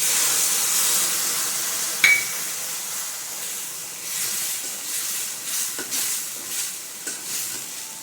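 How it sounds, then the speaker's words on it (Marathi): Hot roasted water chestnut flour hisses steadily in a pan as milk is poured in. A soft sizzle holds throughout, with a few faint clinks and stirring scrapes. No one speaks. "पीठ भाजलं गेले मी एक वाटी दूध टाकते"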